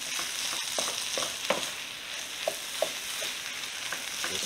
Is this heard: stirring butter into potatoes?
yes